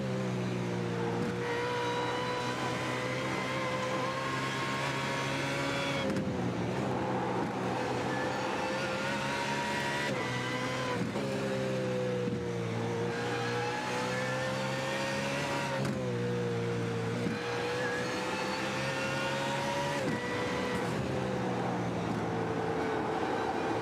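Race car engine heard on board in the Digital Nürburgring endurance race game, a loud continuous high-pitched wail that rises steadily through each gear and drops at every upshift, roughly every five seconds, with no talk over it.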